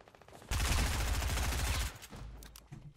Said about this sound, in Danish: Det var alle mine skud.